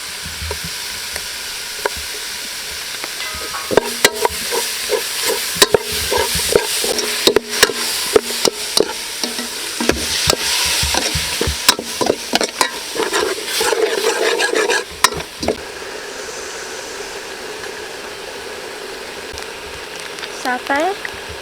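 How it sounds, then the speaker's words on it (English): Curry paste with shrimp paste sautés in a pan for Khmer chicken drumstick curry, a close sizzle broken by a run of sharp rapid spatula knocks and scrapes that stop toward the end, leaving a quieter fry. "Saute."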